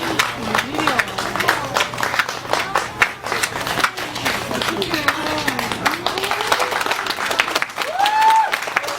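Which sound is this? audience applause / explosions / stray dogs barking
audience applause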